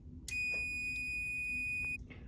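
A fire alarm control panel beeps after a system reset, giving one steady, piercing electronic tone that holds for about a second and a half over a low room hum, then stops.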